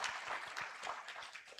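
Conference audience claps for a speaker, a brief burst of scattered hand claps in a hall, moderately close and uneven.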